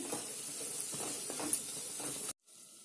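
Spices and turmeric fry in a pan with a soft, steady sizzling hiss and faint stirring movements, then the sound stops abruptly near the end.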